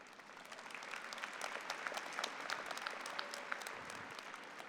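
Graduation ceremony audience claps during a commencement speech: sustained, moderately loud crowd applause with many overlapping hand claps, heard from within the hall.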